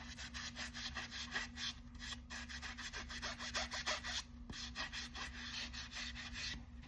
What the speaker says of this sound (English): just rub off the midsoles